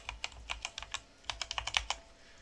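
A password typed on a computer keyboard during server software setup, with quick, close, clicky keystrokes in two short bursts separated by a brief pause.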